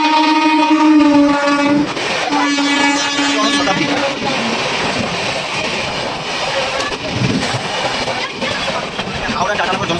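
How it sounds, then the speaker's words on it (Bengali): Howrah–Tatanagar Jan Shatabdi express passing through a station on line 4, opening with a sustained horn blast, then a loud roaring rush of wheels and carriages sweeping by close at hand, with voices in the background. "4 নম্বর দিয়ে এখন এক্সপ্রেস ট্রেন ক্রস করবে।"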